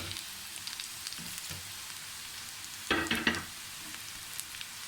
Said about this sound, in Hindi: अब हम इसमें आलू डालेंगे